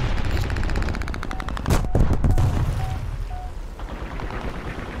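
Aircraft machine guns on a U.S. F3F-2 or P-36 Hawk fighter in War Thunder fire a loud rapid burst, then a few sharp trailing shots, over steady engine noise.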